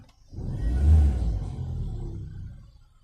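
A Mazda Lantis car engine running close by, a low rumbling drone that swells briefly and then settles back to a steady idle, with no speech.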